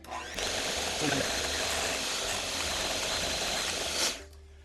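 Electric hand mixer whirring steadily as it blends homemade egg nog with heavy cream and egg yolks, a loud continuous motor drone that starts abruptly and cuts off near the end.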